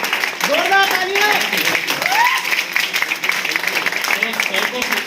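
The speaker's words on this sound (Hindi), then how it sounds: "जोरदार तालियां।" An audience applauds a welcomed guest at an event, a dense, steady wash of many hands clapping throughout, with a voice speaking over the start.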